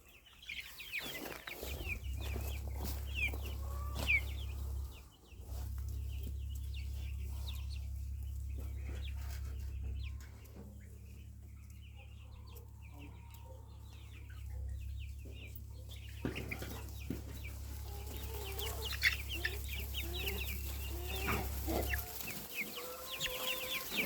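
Chicks and hens cheep and cluck in a farmyard around a covered water dish, with scattered calls throughout. A steady low hum runs underneath most of the time, and the peeping stays moderately close.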